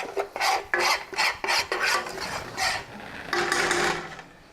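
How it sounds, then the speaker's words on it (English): Oil stirred in a frying pan for chicken-fried turkey cutlets, heard as a series of rhythmic scraping strokes, close and fairly loud, with no talking. "Keep stirring."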